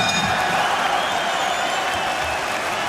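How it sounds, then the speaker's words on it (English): Applause from a boxing arena crowd between rounds of a Derek Chisora fight, steady dense clapping with scattered cheers, continuous and fairly loud across the whole stretch. "Referee Marcus McDonald leading the applause"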